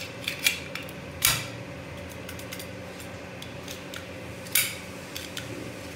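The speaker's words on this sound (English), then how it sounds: "Now we need to insert the magazine." Metal parts of a Colt 1911 .45 pistol click and clack as the magazine is seated: a few sharp, close metallic snaps spread over several seconds against a quiet background.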